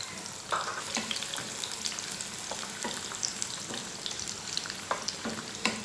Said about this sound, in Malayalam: എണ്ണ ചൂടായി വരുമ്പോൾ അതിലേക്ക് എടുത്ത് വെച്ചിട്ടുള്ള വെളുത്തുള്ളി ചേർത്ത് കൊടുക്കുക